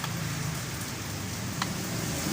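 Rain falls steadily on parked motorcycles, an Easyride 150 among them, as a constant broadband hiss with a low rumble beneath and a few sharper drips standing out, with no one speaking.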